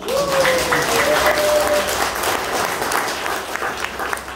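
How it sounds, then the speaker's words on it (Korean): An audience at a seminar demonstration breaks into steady, sustained applause that fills the whole stretch, loud and close, with a few voices and a brief tonal call rising over the clapping. "박수 치십시오."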